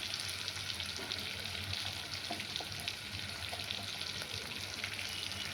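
Potatoes and spices with tomato, ginger, chilli, coriander and turmeric powders fry in a pan for a greens chorchori, a soft, fairly quiet, steady sizzle with light scraping as the mixture is stirred.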